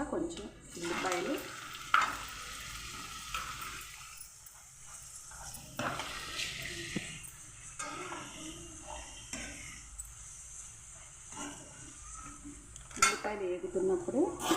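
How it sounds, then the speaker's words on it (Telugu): Chopped onions sizzle in hot oil in a pan with tempering seeds, curry leaves and dried red chillies, with steady frying hiss and intermittent scraping and clinking of a spoon against the pan throughout. "తాలింపులు వేగిన తర్వాత కొంచెం ఉల్లిపాయలు"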